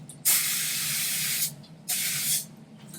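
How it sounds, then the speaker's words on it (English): Two bursts of butter spray hiss onto a springform pan, the first long and steady, the second shorter after a brief pause, close and clear against a quiet room. "I'm going to take it and just add a little bit of butter spray, give it that coat,"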